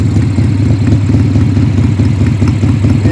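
A 1991 Harley-Davidson Sportster 883 idles close by, its engine giving a loud, steady, low rumble with a loping pulse and no voices over it.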